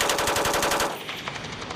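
Rapid machine-gun bursts from soldiers at team combat training in Africa, a fast rhythmic stream of loud shots in the first half that gives way to scattered, more distant gunfire.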